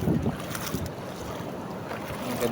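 Waves washing against a rocky shore in Siargao Island in a continuous rushing roar, with wind buffeting the microphone.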